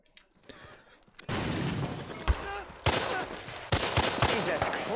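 Grenade blasts and gunfire ring out in a Band of Brothers war scene: after a faint opening, a dense, loud barrage of bursts and sharp cracks begins, with heavy booming hits scattered throughout.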